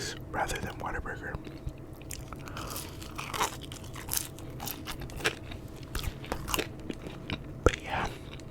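Crunchy Whataburger food is bitten and chewed close to the mic, with sharp crunches and crackles in an irregular rhythm under soft whispered talk.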